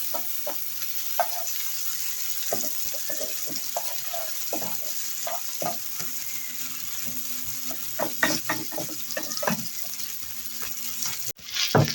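Tomato paste sautés in a pan with a steady sizzle, broken by frequent scraping knocks of a spoon stirring it around, ending with a sudden clatter.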